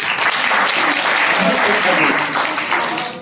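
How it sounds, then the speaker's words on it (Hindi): Audience applause at a district-level English teachers' association event in Malegaon, dense steady clapping filling the room at close range with voices mixed in underneath. "बोलने से पहले तालियां बजाओ"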